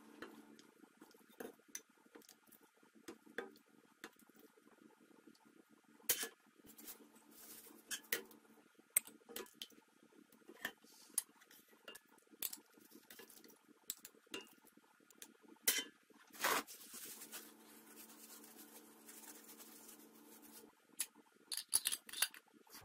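Faint, sparse clinks and taps of a utensil against glass and metal, with soft scraping between, as glass jars are filled from a pot in a quiet kitchen.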